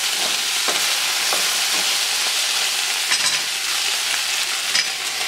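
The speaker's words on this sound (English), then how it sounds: "mix my potatoes around." Steady frying sizzle with occasional scraping and clinking as potatoes are stirred around a pan, close and continuous, no talking.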